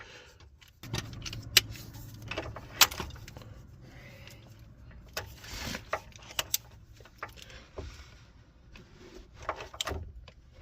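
Ratcheting and clanking of a 17 mm deep socket working a lower ball joint bolt loose under a 2015-2021 Kia Sorento or Sedona, with sharp metallic clicks and taps scattered over a low background hum, no talking.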